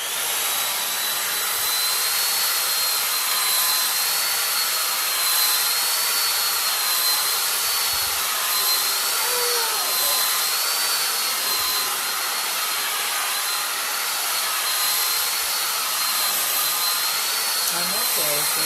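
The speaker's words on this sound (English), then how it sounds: "I have to blow my hair out. It's gonna be loud." A handheld hair dryer blows steadily and loudly up close for the whole stretch, a constant broadband whoosh with a high whine, nearly drowning out a faint voice in the background.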